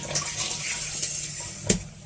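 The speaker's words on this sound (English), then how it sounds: "So you pour it in" A thin liquid of skin acids is poured into a thick base cream for a lightening lotion, giving a soft, close splashing trickle with a brief louder plop near the end.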